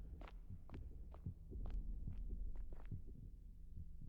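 Heartbeats thud at a steady rhythm in the horror video game The Mimic, soft low double pulses repeating alone under a faint hum.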